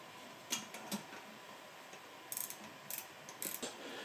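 A ratchet snugs a bolt on a BV43 turbocharger during a rebuild, giving several short bursts of quick clicking pawl ticks spread over a few seconds, close and fairly faint with no talking.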